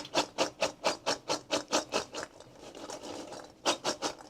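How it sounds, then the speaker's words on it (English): Rinsed fresh cranberries shaken in a colander, about ten quick rhythmic rattling pulses, a brief pause with rustling, then a few more shakes, close and fairly loud with no talking. "we're just going to give them a little bit of a shake"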